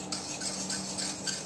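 Hot caramel is stirred in a kadhai, making a close, continuous scraping and rubbing of the utensil against the pan in a steady rhythm.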